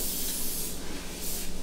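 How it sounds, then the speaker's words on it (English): Cooking spray hisses from a can onto a heated waffle iron in one continuous close burst, loud and steady for under two seconds. "Just spray a little bit down there, so when you pour the waffle mix in there, it's not gonna stick."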